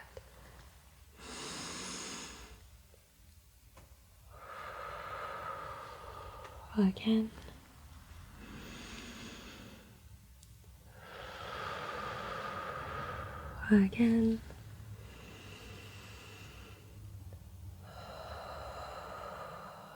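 Slow, deep breathing during an ASMR-style medical check-up: several long, close, whispery inhales and exhales in a steady rhythm, with soft whispered talk between them.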